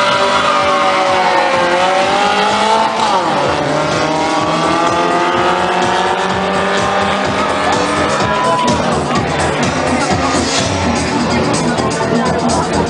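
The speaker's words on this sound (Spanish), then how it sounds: "Dos autos en el King Royal Racing." Two tuned race cars launch side by side in a legal drag race at an air base, their engines wailing as they climb through rising gear sweeps over a cheering crowd, loud and sustained throughout.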